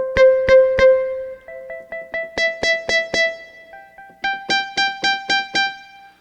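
FM-synthesized piano patch built on a sawtooth-like, velocity-sensitive tone playing a sequence of bright, crisp-attacked notes in quick succession, some groups rising in pitch, clear and close with no talking.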